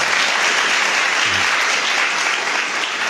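Congregation at a Palm Sunday Holy Mass applauds in a dense, loud, sustained wash of clapping that stays even from start to finish.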